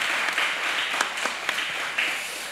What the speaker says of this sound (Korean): 우리 하나님께 영광의 박수 한번 돌릴까요?